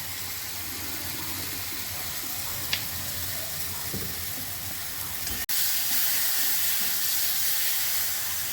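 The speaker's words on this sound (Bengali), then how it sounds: "এবার আমি একটু কাঁচা তেল দেবো।" Raw oil poured into a hot pan for ridge gourd (jhinge) korra gives a steady broadband sizzle and hiss, with a brief sharp pop midway before the frying noise swells louder and continues to the end, with no talking.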